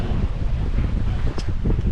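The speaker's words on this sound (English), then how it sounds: "The wind has just increased a little bit" Wind gusting over a sailboat under way, a loud, continuous rushing roar buffeting the microphone, with water and hull noise mixed in.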